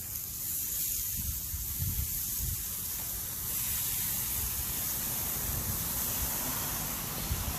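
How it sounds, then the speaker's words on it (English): Olive oil sizzles steadily on a Camp Chef Explorer griddle, a continuous close hiss running alone for the whole stretch with faint low clatter underneath. "Get that sizzle. You hear that sizzle?"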